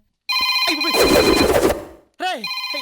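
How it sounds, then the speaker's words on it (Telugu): An electronic telephone ringtone trills loudly, breaks off briefly amid a jumble of other sound, then rings again. "ఎవడో వచ్చి ఫోన్ తీయండి రా"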